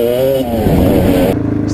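A Kawasaki KX250 dirt bike engine revs loudly and close by, a buzzing two-stroke tone that rises and then drops off quickly in a short burst.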